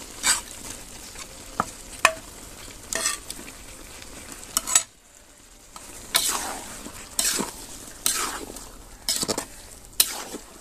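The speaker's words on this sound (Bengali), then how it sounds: "মাংসের সাথে মশলাটা আমি আর 1 মিনিট কষিয়ে নিব।" Chicken pieces, potatoes and spice paste sizzle and fry in a pan while being stirred, with repeated scraping strokes and clinks of a spatula against the metal and a brief pause midway, all close and fairly loud.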